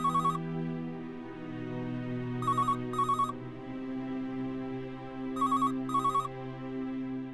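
A telephone rings in short electronic bursts, three clusters of quick trills spaced a few seconds apart, over a low sustained musical background in a household drama scene.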